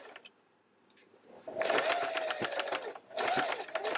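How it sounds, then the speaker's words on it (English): Sewing machine stitching a wristlet keychain, back-stitching over the start of a circular seam: a soft lead-in, then two close, steady bursts of fast mechanical whirring and needle chatter with a brief pause between. "Because you're just going to sew right on top of where you started."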